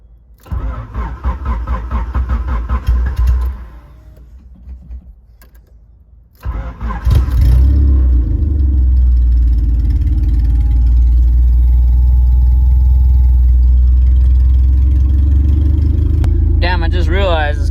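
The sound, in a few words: car engine starting and idling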